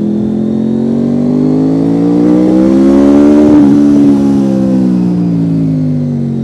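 A Honda CBR 650R-class sports-touring motorcycle engine revs up and back down in one loud, close, continuous sweep, pitch rising to a peak midway then falling, with no talking.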